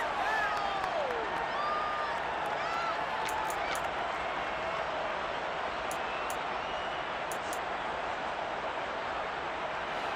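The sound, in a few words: crowd cheering and applauding in Madden NFL 23 video game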